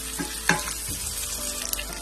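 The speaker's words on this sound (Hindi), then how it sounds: "प्याज को हम थोड़ा सा सौटे करेंगे।" Sliced onions sautéing in hot oil for bhindi chicken crackle and sizzle steadily, with a sharp utensil clack early on and a few lighter stirring taps.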